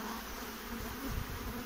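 Honeybees at an opened hive during a May inspection in the Vysočina highlands, a faint, even buzzing drone carrying on steadily with no talk.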